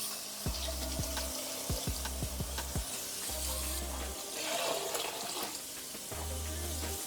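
Water splashes and runs into a kitchen pot while cioppino seafood soup is made, in intermittent pours with clattering thumps between them.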